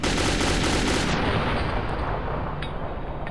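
Sustained, loud gunfire from the video game Metro 2033, a dense, continuous barrage of shots filling the whole clip with no pauses, with no voices over it.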